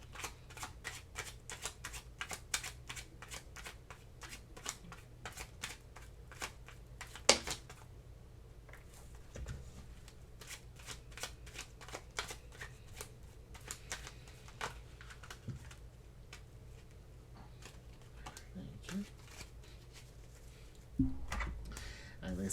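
Oracle cards are shuffled in rapid, fine riffling bursts, quiet and close, with a short pause partway through and occasional taps and soft handling noises.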